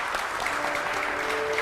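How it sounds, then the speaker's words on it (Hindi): Steady studio audience applause for a guest on a Hindi-Urdu television show, a dense, continuous wash of many hands clapping at even loudness throughout. "लैबा के लिए तालियां बजाइए जी।"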